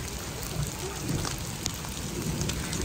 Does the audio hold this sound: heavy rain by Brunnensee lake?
yes